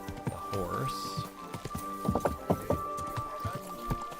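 A horse's hooves clop along in the medieval video game Kingdom Come: Deliverance 2, sounding as a series of close, uneven thuds while someone talks over them.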